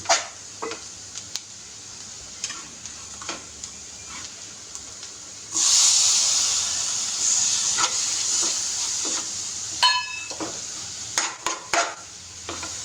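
Spices and tomatoes sauté in a pan for butter chicken sukka; after a few quiet clinks a hissing sizzle rises midway and holds, punctuated by light utensil taps.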